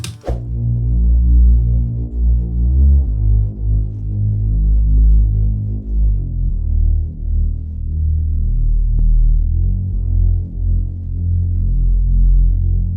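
A deep, loud synth bass plays a simple sustained line of long low notes following the chord root notes, changing pitch every couple of seconds with a throbbing, humming tone.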